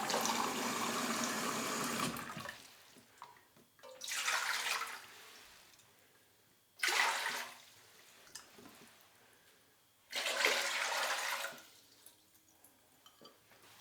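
Water poured into a cooking pot in three separate bursts, each a loud, splashing, close-up gush with quiet drips between them; the water is for making elderflower syrup, and no one talks.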